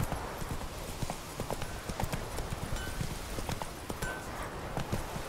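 A horse in the video game The Witcher 3 gallops with steady, continuous hoofbeats for the whole stretch, fairly close and with no talking over it.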